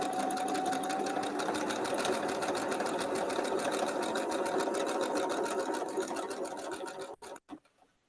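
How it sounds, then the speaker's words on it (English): A sewing machine stitching four-patch quilt blocks, running with a fast, even needle rhythm for several seconds, close and clear, then stopping with a few final clicks. "I'm going to sew up the 4 patches"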